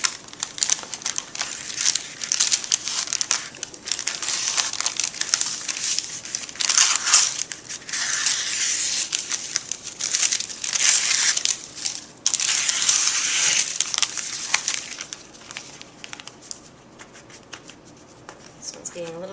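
Plastic film peeled slowly off a silkscreen, a steady close crackling and crinkling that swells and fades in uneven bursts, running nearly the whole time with a short break partway through.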